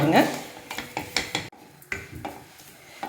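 Wheat rava roasting in ghee and being stirred, heard as a run of close, irregular metallic scrapes and clinks of a spoon against the pan, with a brief quiet gap partway through.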